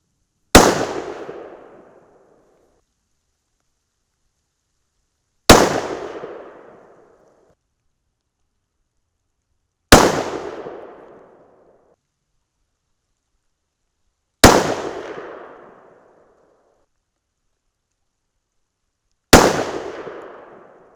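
Five 6 PPC rifle shots with 68gr Bart's Ultra bullets over N133 powder, each a sharp loud crack with a decaying tail, evenly spaced about five seconds apart with silence between.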